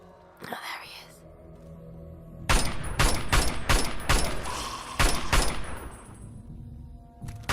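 Gunfire in Fallout 3, a burst of rapid loud shots in a quick irregular sequence with a couple of later shots, preceded by a brief sound and quiet game ambience.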